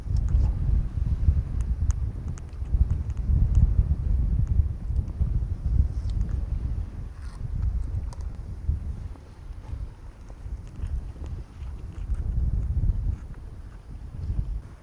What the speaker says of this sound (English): It's hard to even concentrate with it being this windy.